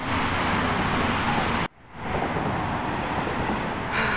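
Heavy car traffic roars steadily across a bridge in Ohio, heard from inside a car as a loud, unbroken rushing noise that briefly cuts out before resuming.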